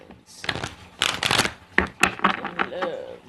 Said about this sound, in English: Okay, so 2 more shuffles.